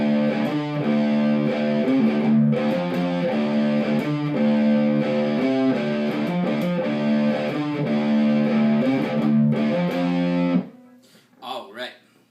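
Distorted electric guitar plays an interlude riff at a slow tempo, with steady repeated picked notes and small pull-offs, loud and close for about ten seconds before it stops abruptly and a voice briefly speaks.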